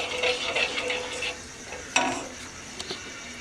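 Cumin seeds hitting two tablespoons of hot oil in a pan for a green chilli fry, giving a bright, steady sizzle with a sharp crackle burst partway through, then fading to a softer hiss with small clinks.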